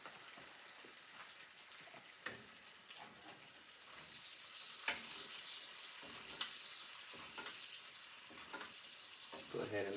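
Dry-aged T-bone steak sizzling steadily in a cast iron pan as it is basted, a continuous close frying hiss with small spoon clinks and spatters throughout.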